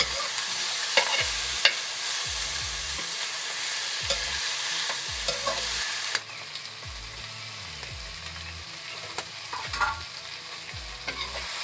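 Steady sizzling of chicken frying in a pan, with repeated scraping and stirring strokes throughout; no voices.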